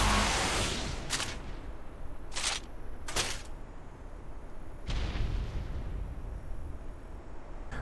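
Rocket explosions hit a Rock Elemental in the video game Ark: Survival Evolved, giving five loud, sharp booms at uneven intervals with rumbling decay in between and no talking.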